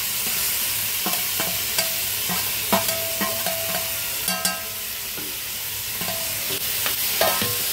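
Boiled dragon stalk yam (shevla) frying in hot oil, a steady close sizzle broken by scattered clinks and scrapes of a spatula against the pan, with no voices.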